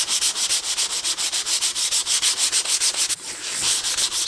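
An oak face frame is hand-sanded with 240 grit sandpaper, close and loud in fast, even back-and-forth strokes for about three seconds, then a longer continuous rubbing pass.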